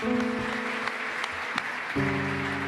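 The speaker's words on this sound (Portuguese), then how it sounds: "Vamos aplaudir o Senhor." A church congregation claps in praise, a brisk crowd of hands heard under sustained organ or keyboard chords, fairly steady for under three seconds.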